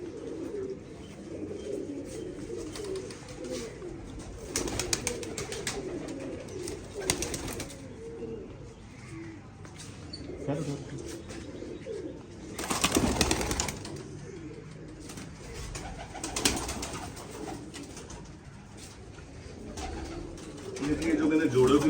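Domestic pigeons coo in a continuous low murmur, with several birds close by and occasional louder bursts and wing flutters, while someone talks over them.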